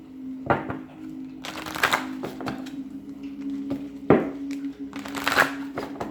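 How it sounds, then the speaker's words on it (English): Tarot cards being shuffled by hand in a series of short, crisp riffling bursts separated by pauses, with a steady low electrical hum underneath and no speech. "3 more shuffles."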